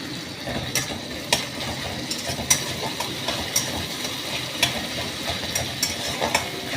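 Tomatoes frying in a pan while being stirred, cooked down until soft: a steady sizzle with small scraping and stirring ticks scattered throughout, close and moderately loud, with no talking.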